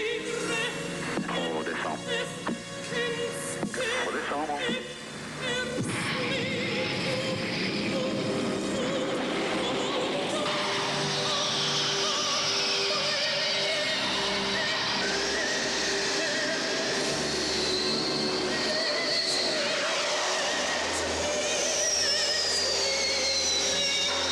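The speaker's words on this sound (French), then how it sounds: "Poser un avion sur le pont d'un porte-avions, c'est une opération délicate." Jet aircraft landing on the deck of the aircraft carrier Foch, with a loud sustained roar and whine rising and shifting in pitch under a dense mechanical rumble, with brief voices early on.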